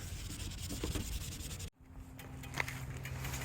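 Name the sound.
sanding a car headlight lens with sandpaper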